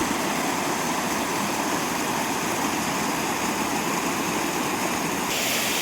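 A waterfall on a village riverbank roars in a dense, constant rush of falling water, loud and close throughout with no voices.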